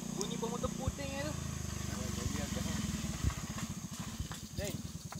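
A motorcycle engine idles with a steady low putter beneath people talking, fairly quiet and somewhat distant.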